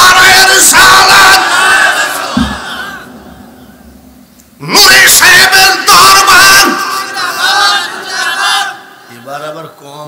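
A large crowd at an Islamic religious sermon gathering shouts the Naraye Takbir chant back in unison, loud roaring bursts that swell, break off into a quieter pause, then return in several strong waves.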